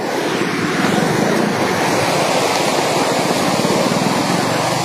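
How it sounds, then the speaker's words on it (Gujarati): The flooded Dev river surges under the old Vejalpur bridge, bank to bank, a loud, continuous broadband roar of rushing water with no pauses and no voices. "દેવ નદીમાં બે કાંઠે પાણી વહી રહ્યું છે"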